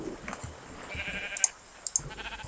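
Faint sheep bleats come from a Minecraft sheep amid quiet game background noise, with a couple of sharp clicks near the end.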